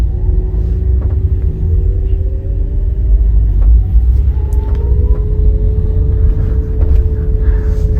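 Inside a BYD ET3 electric van pulling away, a low road rumble sits under a faint rising whine from the electric motor. The sound is steady and moderately loud, with no talking.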